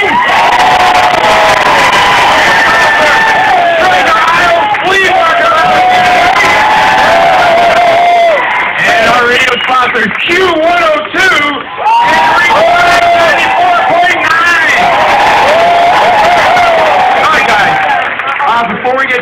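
A crowd at a Wheel of Fortune Wheelmobile event in Monroe, Ohio cheers, whoops and claps loudly and continuously, with children's shouts mixed into the dense, energetic roar.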